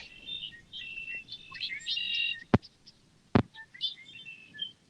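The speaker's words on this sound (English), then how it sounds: "The little blackbirds and the frogs going here." Small birds chirp and trill in quick, high bursts outdoors by the water, with a couple of sharp knocks partway through. Moderately faint, with no voices.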